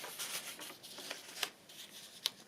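Paper being folded into a pocket for a single-page double-pocket layout, soft close rustles and creases with two crisp sharper presses.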